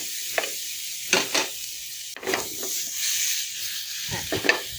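Carrot halwa fries in a pan while a spoon stirs and scrapes it, making repeated close scraping strokes over a continuous soft sizzle.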